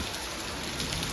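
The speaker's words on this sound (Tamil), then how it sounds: "இப்போ பெஞ்சிட்ருக்கிற மழை வந்து ஒரு" Heavy rain pours steadily during Cyclone Fengal in Chennai, a dense, continuous hiss of falling water with no pauses, loud and close throughout.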